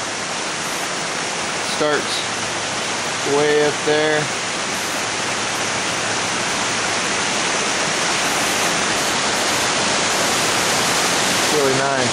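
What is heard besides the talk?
waterfall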